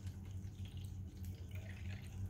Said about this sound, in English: Then we can put water also.